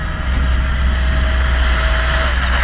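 A homemade high-speed RC car, rocket-car styled and built for about 120 km/h, runs at full throttle over rough, stony ground. It makes a loud, steady electric whine with a deep rumble, and the pitch drops sharply right at the end.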